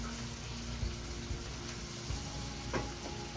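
Garlic cooks gently in a pot over a lowered flame for Jamaican chayote and salt fish, giving a soft, steady sizzle with a few light clinks of a spoon against the pot.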